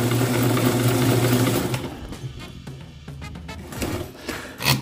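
A sewing machine runs a zigzag stitch, first a loud steady whirring hum, then slower, uneven stitching clicks and pauses as the needle works the fabric, close up and without voices.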